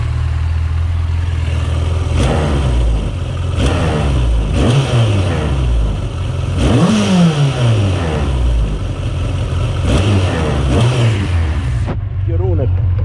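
A Yamaha XJ900 Diversion motorcycle engine runs steadily and is revved repeatedly, its pitch rising and falling in several bursts before it settles and cuts off near the end. The engine is loud and close throughout.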